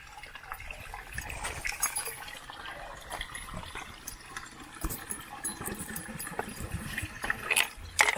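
Fresh water trickling and splashing from a wall, a soft continuous flow with occasional gurgles, fairly faint and close, without talk.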